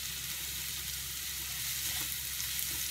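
Mixed vegetables sizzling in a pan for whole wheat pasta: a steady, close crackle of frying with faint stirring and no voices.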